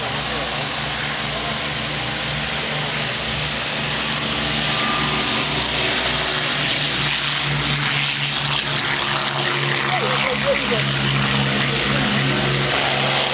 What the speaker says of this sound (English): the Lancaster and the Spitfire of the Battle of Britain Memorial Flight are taxiing down the runway